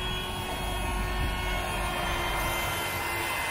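An electric air pump inflates a tent air mattress used for motorcycle camping, producing a loud, continuous, steady whirring drone at close range without pauses or speech.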